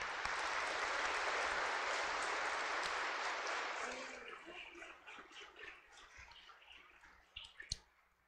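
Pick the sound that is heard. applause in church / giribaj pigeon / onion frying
applause in church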